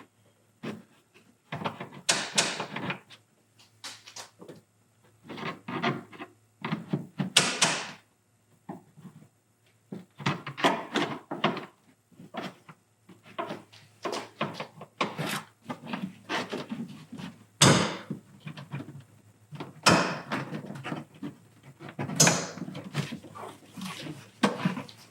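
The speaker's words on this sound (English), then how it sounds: "take your trim tool and just very carefully go near the edges" Plastic trim tool prying a car interior panel off its clips, with a series of short scraping, creaking and clicking bursts in irregular clusters, close and fairly clear over quiet background without talk.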